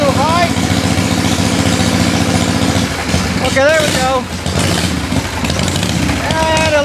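Harley-Davidson Shovelhead motorcycle engine idling high with the throttle lock set, a steady, loud, close rumble throughout while someone talks over it.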